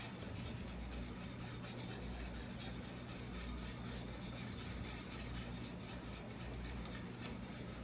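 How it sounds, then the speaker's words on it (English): Sugar being whisked into a pot of peach and apple jelly, a steady continuous scraping and rubbing that runs evenly throughout without pause, close and moderately loud over a low background rumble. "now I'm just going to whisk in my sugar"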